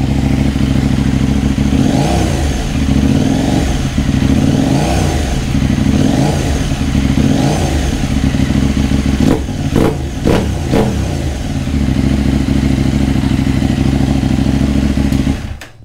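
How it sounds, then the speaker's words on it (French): A KTM Duke 890 R fitted with an IXIL RC exhaust idles loudly nearby and is given a series of short throttle blips, several evenly spaced rises followed by a quicker cluster of sharp revs. "c'est quand tu fais des petits coups de gaz que là, c'est vraiment plus bruyant."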